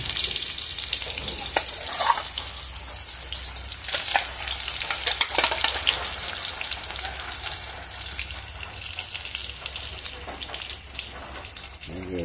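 Potatoes and onions fry in hot oil for a fish dish, a steady crackling sizzle running throughout with occasional louder pops and spatters, close up and without talk.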